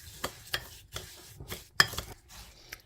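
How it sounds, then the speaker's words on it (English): Chocolate bar filling being mixed in a bowl for a Dubai chocolate bar, quiet, close scraping and tapping strokes in an irregular rhythm of about eight distinct knocks. "So we mix that all together, and that's going to be our filling for the chocolate"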